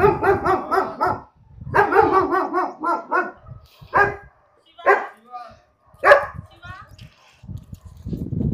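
A German Shepherd barks excitedly in loud, close bursts, with clusters of rapid barks early on followed by single sharp barks and pauses; a voice and other background voices are faintly heard between barks.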